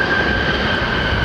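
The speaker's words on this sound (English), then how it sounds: "That's the brakes making that noise, folks." A steady, high-pitched aircraft brake whine rides over a loud, continuous rumbling roar as a large British Airways plane rolls on the runway at London Heathrow Airport.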